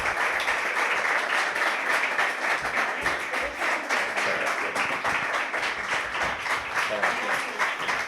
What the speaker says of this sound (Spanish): vamos a recibirlo con un aplauso